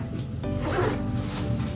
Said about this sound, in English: and then you just zip it up here.